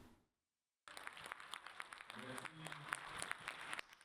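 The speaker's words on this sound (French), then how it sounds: "Des applaudissements nourris pour le ministre des Affaires étrangères et de la coopération internationale, Abdoulaye Diop." Sustained applause breaks out in a hall for Mali's foreign affairs minister, Abdoulaye Diop, after a brief silence, dense steady clapping with some crowd noise underneath.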